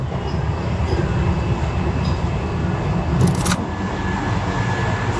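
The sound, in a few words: train running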